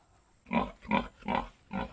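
A large breeding sow on a farm gives four rhythmic, evenly spaced grunts at close range, each a short throaty burst, over a faint steady background hum.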